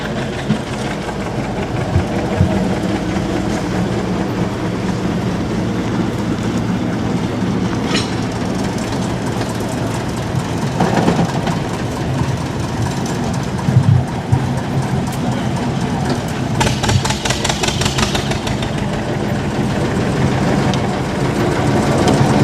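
A steady, loud train rumble with engine drone and rhythmic clatter of wheels on track, continuous throughout, with occasional higher metallic squeals.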